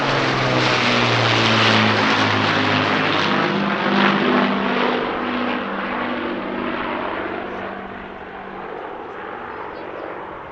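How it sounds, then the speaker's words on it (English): Three piston-engined warbirds, a Hawker Hurricane Mark IIC and two Spitfires, fly together at the RAF Cosford air show. Their propellers give a loud, throbbing drone that rises and falls as the formation passes, then slowly fades. "first time the trio has flown together at an air show since 2023."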